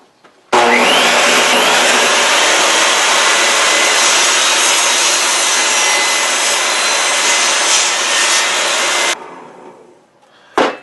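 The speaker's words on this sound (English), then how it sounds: "This is a 50-inch piece of wood, so I'm going to cut it evenly at 25 inches." A power saw cuts a 50-inch wooden board in half at 25 inches, making a loud, continuous buzzing roar for about eight seconds before cutting off abruptly and whining down, then a short knock follows.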